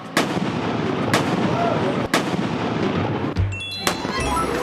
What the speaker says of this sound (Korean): 매일 12시에 대포 한 발을 빵 하고 쏜다고 합니다.